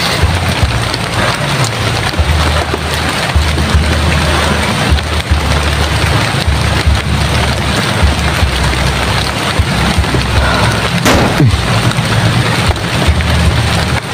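Heavy rain pours down in a dense, continuous hiss, with a low rumble of thunder rolling underneath.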